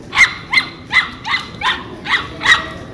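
A skinny spaniel puppy barks in a quick series of seven sharp, high yaps, evenly spaced and close by in a quiet room.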